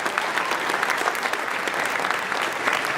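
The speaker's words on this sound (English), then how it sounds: "give yourselves a round of applause" A dense, steady round of applause from a large audience at a political party dinner, many hands clapping together at an even level for a few seconds with no talking over it.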